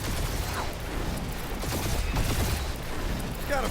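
Dense, continuous gunfire and combat noise from the PS5 action game Marvel's Guardians of the Galaxy, a loud, steady barrage with no pauses.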